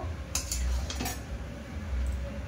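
A spiced pumpkin curry with pui greens is stirred and fried in a pan, giving a few clinking scrapes of a spoon against metal over a low steady background, with only faint sizzle.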